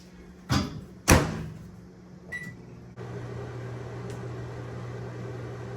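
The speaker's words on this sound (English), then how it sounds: "I wonder if I could put this in the microwave." Two thuds of a door closing and a short beep, then a steady low microwave hum with a droning whir that continues to the end.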